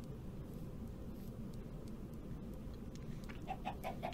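Chickens in the video game Witch, Please! give a few short clucks near the end, faint over a steady in-game background hum with no talking.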